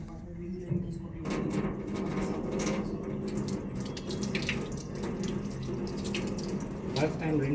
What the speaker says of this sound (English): First I am rinsing my hand.